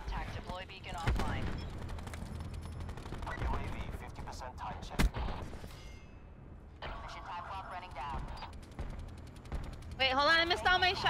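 Gunfire in the Black Ops 4 video game comes in several loud bursts and single shots, mixed with game effects and voices over roughly eleven seconds.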